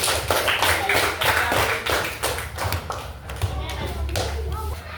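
A class of primary school children claps together in a loud burst of applause for a group, with children's voices chattering over the clapping.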